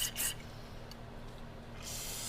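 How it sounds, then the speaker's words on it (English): A steady hissing spray of aerosol cleaner into an HVLP spray gun runs throughout, with short louder bursts at the start and end, over a low mechanical hum. "Here's our aerosol injected cleaner."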